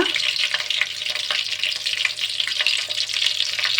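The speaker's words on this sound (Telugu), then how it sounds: "నూనెలో బాగా ఆ మిర్చి అనేవి ఫ్రై అవ్వాలి" Green chilli pieces fry in hot oil for a drumstick tomato curry, a loud dense crackling sizzle running steadily throughout with no voices.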